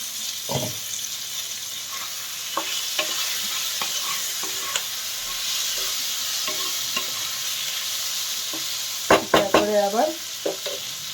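Chicken stomach and liver masala with tomatoes fries steadily in a pan, a broad constant sizzle with light stirring scrapes and a cluster of clanking utensil knocks near the end.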